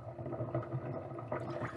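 Water drains and gurgles out of crochet hair held up during washing, a soft, low, uneven sloshing trickle close by with no one talking.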